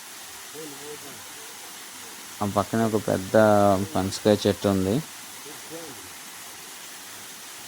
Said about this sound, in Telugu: అదిగోండి వాటర్ ఫాల్.